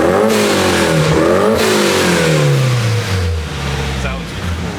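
A stock SR20DE non-turbo engine fitted with a Garrett GT2860 RS turbo revs loudly on a dyno, its pitch climbing and then sweeping down as it winds out, with a person talking over it.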